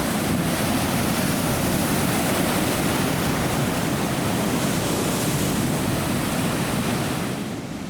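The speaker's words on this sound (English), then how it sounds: "Let's watch a little bit more of Thors Well and the ocean in action." Ocean waves surge and churn through Thors Well on the Oregon coast, a steady broadband roar of rushing surf that holds loud and continuous, easing slightly at the very end, with no voices.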